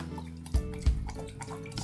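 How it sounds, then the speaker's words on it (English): A chocolate Sazerac cocktail mixture of white creme de cacao, absinthe and Creole bitters pours into a small barrel, a close, steady liquid trickle with a couple of low splashy thumps. "I'm going to pour this glorious mixture into the barrel"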